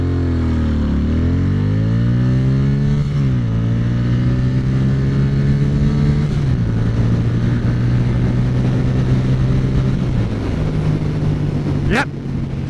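A custom Suzuki Intruder motorcycle pulls away from a dead stop, its engine note climbing loud and close through several gears with a distinct dip at each shift, then holding a steady high drone.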